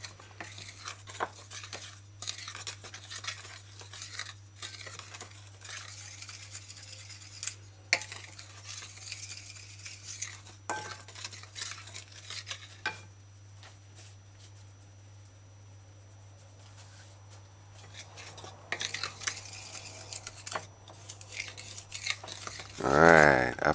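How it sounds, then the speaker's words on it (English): A wooden spoon stirs dry whole wheat pancake ingredients in a bowl, making soft, intermittent scraping and brushing strokes that come in irregular bursts over a quiet background. "Use a wooden spoon and stir or combine all the ingredients properly."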